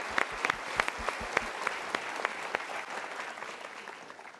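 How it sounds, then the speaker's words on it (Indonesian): A studio audience on a motivational talk show claps for guests, a steady crowd applause with a few sharp nearby claps standing out early, then easing slightly toward the end. "Kita berikan tepuk tangan untuk mereka."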